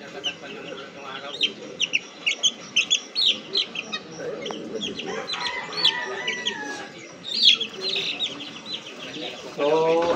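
Hens, chicks and young cockerels cluck and chatter in a coop, in short close bursts with a few louder calls, while a person speaks now and then.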